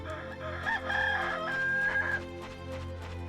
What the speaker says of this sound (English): It's a very stock chicken sound effect.